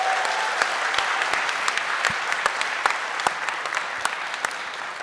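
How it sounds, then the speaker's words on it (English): A crowd at a startup pitch night applauds steadily, a dense wash of clapping with a few sharper individual claps popping out, moderately loud throughout. "So give them a round of applause"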